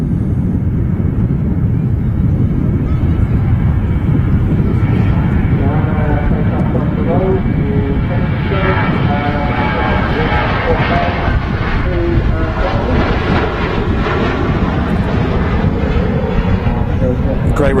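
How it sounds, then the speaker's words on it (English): A Ryanair Boeing 737 jet takes off from Manchester Airport for Berlin, its engines producing a loud, sustained roar with rising whining tones as it climbs, while a voice talks over it. "Great rotation shot there of the 737 off to Berlin, the Ryanair, flight 1145."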